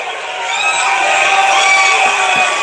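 A large crowd at a Trump rally cheering and whistling, a loud continuous roar with shrill whistles and shouts blending together throughout.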